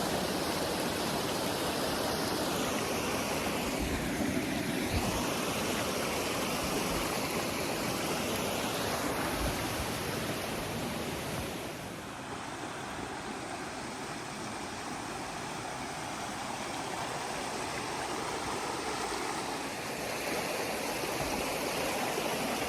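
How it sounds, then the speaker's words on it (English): A waterfall and stream on a hiking trail along the Appalachian Trail near the Kennebec River pour in a continuous, close, broadband rush of falling and flowing water, with no voices. "Look at this beautiful waterfall."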